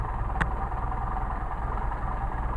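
An engine fitted with a Solex carburetor idling steadily at low RPM, around 500, a close, even low throb with one brief click near the start.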